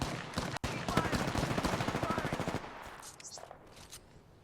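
Rapid automatic gunfire from an Apex Legends match rattles in fast, even bursts at close range for a couple of seconds, then thins into scattered fainter shots with no one speaking.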